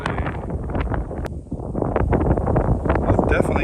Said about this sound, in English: Today we got a little bit of wind out in the yard here. Stuff is blowing pretty good.